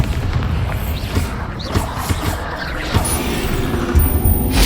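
Bombarda spell explosions and combat in Hogwarts Legacy, loud booms and crashing impacts scattered over a steady rumbling battle bed.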